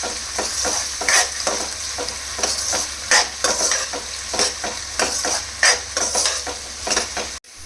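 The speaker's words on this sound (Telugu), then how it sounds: "ఈ ఆనియన్స్ గోల్డెన్ బ్రౌన్ కలర్ వచ్చే వరకు ఫ్రై చేసుకోవాలి ఫ్రెండ్స్" Onions fry in oil toward golden brown while a utensil stirs them, a steady sizzle broken by repeated scraping strokes against the pan at close range.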